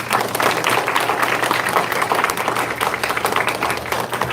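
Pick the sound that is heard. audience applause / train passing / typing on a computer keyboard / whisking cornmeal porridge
audience applause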